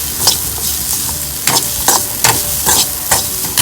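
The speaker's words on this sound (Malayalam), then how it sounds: "ഇതെല്ലാം കൂടിയിട്ട് ഡാർക്ക് ബ്രൗൺ കളർ ആവണ വരയ്ക്കും വറുത്തെടുക്കുക" Spices for Kerala thaalagam stirred and fried in a pan until dark brown, with a steady sizzle broken by several sharp scraping stirs at a fairly even rhythm, close and loud, with no voices.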